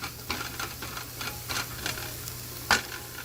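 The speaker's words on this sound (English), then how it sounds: "I'm going to add the capsicum, green capsicum and some red capsicum, and I'm going to stir fry them for another 10 minutes" Sliced onions with green and red capsicum stir-fry in a pan, a soft sizzle broken by regular scraping stirs and a sharp clink near the end.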